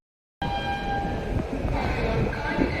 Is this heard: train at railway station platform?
yes